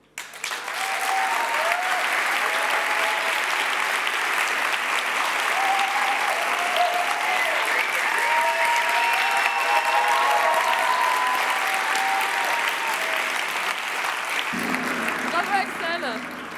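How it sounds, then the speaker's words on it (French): Audience at a university thesis-presentation final evening giving sustained, loud applause, a continuous wash of many hands with faint cheers underneath, fading into a quieter room tone near the end. "Les dernières secondes étaient très bien couvertes par vos applaudissements"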